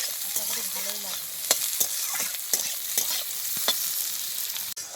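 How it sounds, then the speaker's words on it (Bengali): Onions fry well in a pan, making a dense, continuous sizzle close by, with scattered stirring taps and one sharp knock near the end. "পেঁয়াজটা খুব ভালোভাবে ভেজে নিয়েছি"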